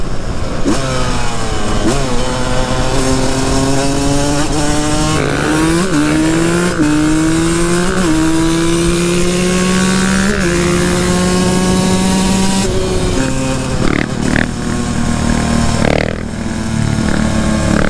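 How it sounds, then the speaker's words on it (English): Two-stroke supermoto motorcycle being ridden, its engine loud and close with repeated rising revs and gear shifts, a raspy buzzing note that climbs and drops throughout. "The bike definitely stays in the lower RPMs a lot, which is good and bad for a two-stroke"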